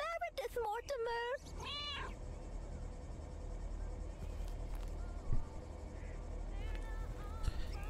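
A cat in the video game Lake gives a few clear, close meows at the start, followed by quiet outdoor ambience with faint insect chirps.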